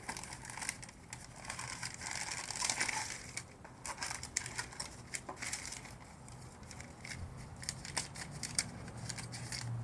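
A new car brake pad is pulled from its packaging, giving close crinkling, crunching and rustling of packing material with scattered sharper snaps, moderately quiet and without talk.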